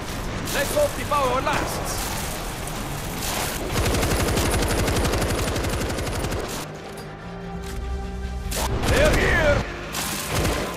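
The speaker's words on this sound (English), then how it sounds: "Machine gun in place." Machine gun fire in the video game World War Z: sustained rapid bursts of loud automatic shots with mechanical clatter, mixed with game explosions and shouting voices over a dense battle din.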